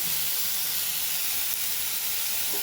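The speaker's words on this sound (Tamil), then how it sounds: "இது எல்லாத்தையுமே சேர்த்து நல்லா வதக்கிடுவோம்." Onions and tomato sauté in a hot pan with a steady, even hiss of sizzling that stays constant and close the whole time, no voices.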